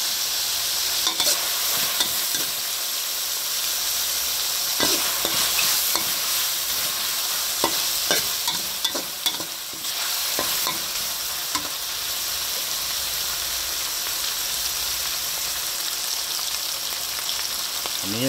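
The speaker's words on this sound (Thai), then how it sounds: "เจียวกระเทียมให้หอมแล้วก็ใส่หมูลงไปรวนครับ" Garlic and pork stir-fried in a pan for a Thai onion flower dish, a steady loud sizzle running throughout with scattered scraping and clinking of the spatula against the pan, no talking.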